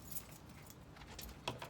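Metal lug nuts for a 2010 Dodge Caliber wheel clink and jingle together in a hand, faint, close, scattered light metallic taps with one sharper clack near the end.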